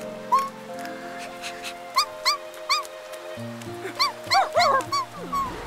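A cartoon puppy yips and barks in short, high bursts over a cartoonish musical backing in an animated children's show, several quick barks clustered near the end.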